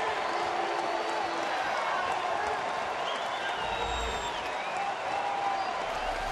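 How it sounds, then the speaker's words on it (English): Giants fans applaud and cheer in a ballpark crowd at a baseball game against San Diego, a dense, steady roar of clapping and crowd noise heard throughout. "And a lot of Giants fans applaud that effort."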